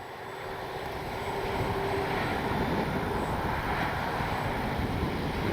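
An FMS Ranger 1220mm RC airplane flies in strong wind, its motor a steady droning whir that swells slightly and holds, mixed with gusty wind rumble across the microphone.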